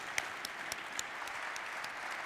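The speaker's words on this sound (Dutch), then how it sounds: "Graag een warm applaus" A warm round of applause from a live audience at a College Tour–style school event, steady dense clapping with a few sharper claps standing out, fairly faint and distant, with no talk over it.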